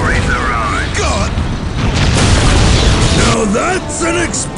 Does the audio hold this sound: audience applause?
no